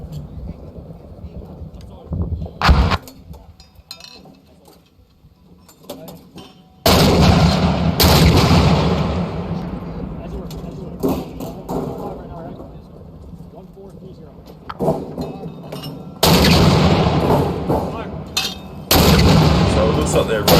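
Mortar fire during Marine Corps infantry school training: several loud, broadband booming crumps with long rumbling tails, some arriving in close pairs, separated by quieter stretches with voices talking in the background.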